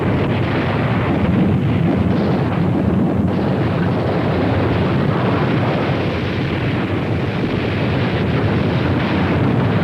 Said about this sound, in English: 200 German divisions move forward under cover of a massive artillery barrage.